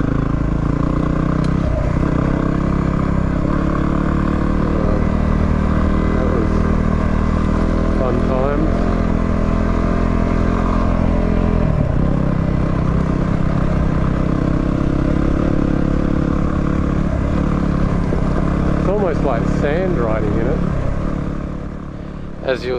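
Two dual-sport motorcycles, a Yamaha WR250R and a Honda CRF250L, ride over loose blue-metal gravel near an old railway, giving a loud, steady engine drone with shifting revs and crunching gravel close by throughout.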